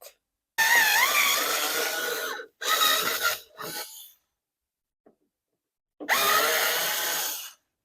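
A cordless power drill or driver undoes screws on the blower motor housing of a BMW F10 5 Series: three loud whirring bursts, a shorter fourth, a pause, then a final long burst.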